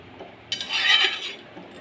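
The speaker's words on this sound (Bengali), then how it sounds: "জিরে বাটাটাও দিয়ে একটু নেড়ে নেব।" A spoon scrapes and stirs through a pan of fish curry with cumin paste, one short clattering burst in the middle of the clip over quiet background.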